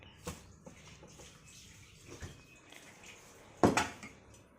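A metal pot taken from a fridge clinks and knocks faintly a few times, with one louder clattering knock near the end, close by in a quiet home kitchen.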